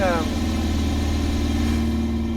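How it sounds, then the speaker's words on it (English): A truck engine in the video game American Truck Simulator idles steadily up close, a low constant rumble with a hissy, staticky texture over it. "fix the staticky sound in this engine"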